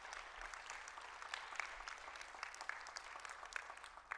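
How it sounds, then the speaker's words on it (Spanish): A church congregation claps in a steady wash of many hands, faint and somewhat distant, with scattered sharper individual claps standing out and no speech on top. "le puede dar un aplauso al Señor"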